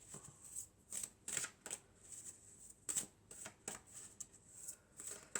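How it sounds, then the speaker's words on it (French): Playing cards are shuffled and drawn for a tarot-style reading, giving quiet, close riffling bursts and soft snaps in an irregular rhythm, with no voice. "Alors je vais tirer encore quelques cartes,"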